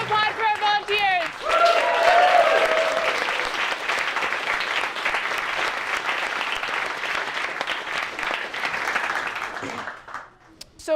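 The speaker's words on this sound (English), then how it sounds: "a huge round of applause for our volunteers" Sustained audience applause at a Bored of Directors performance, dense steady clapping from a crowd that builds quickly, holds for several seconds, then fades out near the end.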